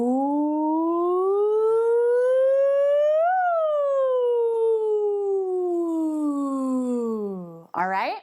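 A voice imitates a siren with a smooth ooh that rises slowly, peaks, then glides back down, sustained and clear for about seven seconds before a brief squeaky break at the end.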